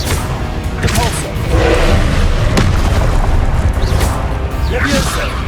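The Repulso spell effect in the Hogwarts Legacy game bursts out as a loud booming blast with crashing impacts amid continuous combat noise, dense and close throughout.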